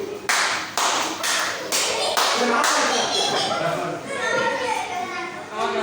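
Hands clap in a series of loud, sharp claps at a foundation's panel result announcement, with a few spaced strikes early on, then a denser patter as children's voices chatter underneath.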